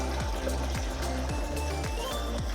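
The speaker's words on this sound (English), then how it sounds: "That is probably my most successful pour of a bucket into this sprayer." Liquid lawn feed pours steadily from a bucket into a garden sprayer, a continuous gurgling stream with repeated glugging pulses, close and fairly loud, with no talking.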